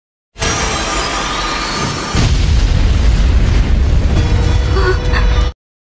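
A barrage of anime blood bomb explosions, a loud dense roar that starts abruptly, then swells into heavier continuous booming and rumble before cutting off sharply, no speech.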